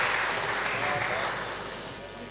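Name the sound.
audience applause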